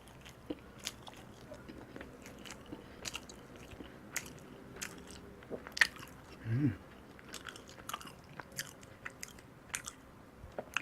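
Bread from a bakery is bitten and chewed close to the mic. Soft, crunchy bites and moist chewing come in irregular, quiet bursts with faint background noise.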